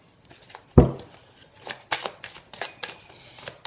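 Tarot cards being shuffled and handled close up, a sharp thump as the deck is set down followed by several quick riffling bursts and soft card slides.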